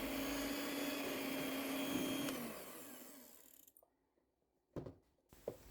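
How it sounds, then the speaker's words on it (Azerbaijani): An electric hand mixer whips cream in a bowl with a loud, steady motor whine, then slows and stops about halfway through, followed by a few faint knocks and clatters. "Hər hansı bir kremi qaba əlavə edib mikser yardımı ilə qarışdırıram"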